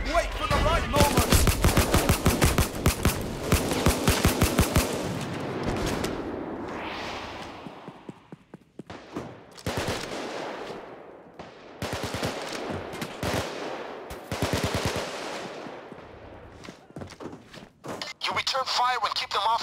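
Rapid bursts of automatic gunfire from the heist shooter game Payday: Watchdogs on Death Wish difficulty, loud and dense at first, then sporadic volleys separated by short gaps, with game voices shouting over the shooting.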